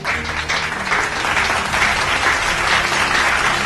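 Congregation applauding and cheering for Jesus during a church sermon, a steady dense roar of clapping hands sustained throughout, fairly loud with crowd voices blended in.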